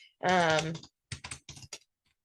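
After a short spoken sound, keys on a computer keyboard clatter in a few quick clusters of clicks while a form is filled in, close and fairly soft.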